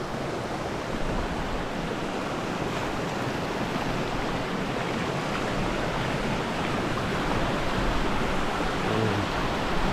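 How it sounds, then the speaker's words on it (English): A small brook-trout stream flows in an even, continuous rush of water, moderately loud and close, with no voices. "I believe I found a good stream."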